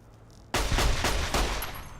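A sudden loud volley of gunshots in Fallout: New Vegas erupts after a quiet start, with several rapid close blasts running together for about a second and a half.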